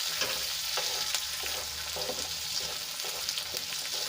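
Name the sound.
capsicum cooking in a covered pan for pizza topping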